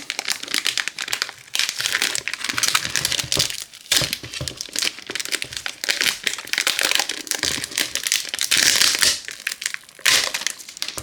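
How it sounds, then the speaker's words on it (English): Thin plastic film peeled off the bottom of a cured rubber mold, a long stretch of loud, close crinkling, crackling and tearing with short pauses, no voices. "let's go ahead and peel away the plastic on the bottom here"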